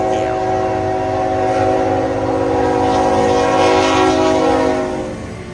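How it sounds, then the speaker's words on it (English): A CN train passes slowly through a forest, its horn sounding loud and sustained over the low rumble of the rolling train, with faint talk underneath. "southbound trains go a little bit slow through here"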